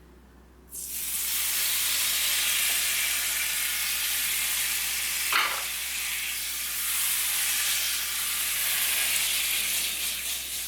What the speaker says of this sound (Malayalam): ഇനി ഇത് നമുക്ക് ഈ ഒരു മുട്ടക്കറിയിലേക്ക് ഒഴിച്ചു കൊടുക്കാം